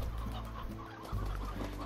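Chickens clucking in a video game, a quick run of short, close clucks over a steady low hum, lasting only a couple of seconds.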